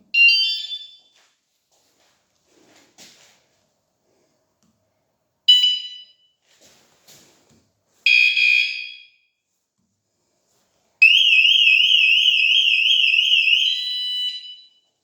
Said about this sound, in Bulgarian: Ето, включвам алармата.